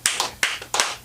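An audience at a comedy club show claps in short bursts, three quick rounds of applause, close and sharp, with no talking over them.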